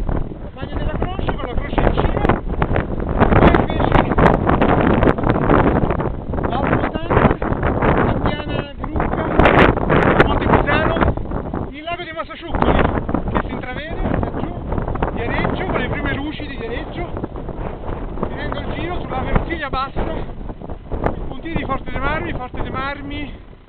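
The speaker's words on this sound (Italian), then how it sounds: "c'è molto vento" Strong mountain gusts on Monte Corchia buffet the microphone in heavy, rushing roars that rise and fall throughout, with brief lulls between blasts.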